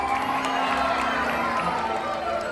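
A crowd on a Disney cruise cheers and claps continuously in a steady wash of applause and shouts, with an announcer's voice faintly mixed in.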